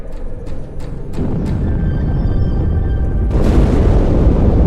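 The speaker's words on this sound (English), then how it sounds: "That explosion came from inside the Athens, same as the Malta." A ship explodes in the video game Halo 2, with sharp bursts leading into a heavy booming roar that swells again near the end, loud and close.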